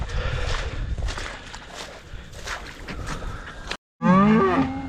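Cattle in a flooded higher farm paddock: muddy shuffling and trampling through wet ground, then after a brief gap a loud, close, drawn-out moo.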